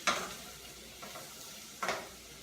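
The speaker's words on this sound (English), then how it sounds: "Get that stirred in." A pan of Brussels sprouts being stirred with melted honey: two scraping spoon strokes about two seconds apart, the second slightly louder, over a faint background.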